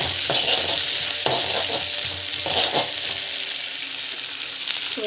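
Onions and green chilies sautéing in a pan for temple-style lemon rice, with a steady broadband sizzle under repeated scraping stirs of a spatula, close and fairly loud throughout.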